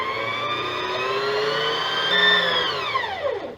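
A sewing machine motor winding a bobbin hums steadily at high speed, then its pitch slides downward as it slips and slows near the end, close and loud.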